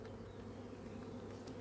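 A strong, crowded colony of honeybees trying to swarm after rainy weather, their dense, steady buzzing filling the air continuously at close range with no voices.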